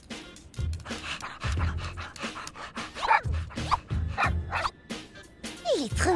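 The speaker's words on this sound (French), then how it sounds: "Trop mignon son petit toutou." A small cartoon dog pants heavily and lets out several short yips and barks, close by, with whimpery breaths in between.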